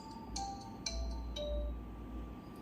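A phone ringtone preview on an Infinix Hot 20 5G plays softly: bright chiming notes with short tonal tails, repeating over a steady low hum, no voices.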